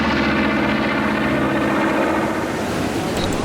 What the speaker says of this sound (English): This is a B-25. It's a World War II era bomber.